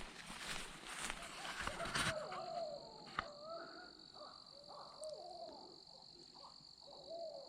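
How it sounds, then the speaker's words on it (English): Several owls hoot at the edge of the woods during a pre-rut deer hunt in Tennessee, their soft calls repeating at a moderate distance after an early burst of rustling. "Listen to all those owls."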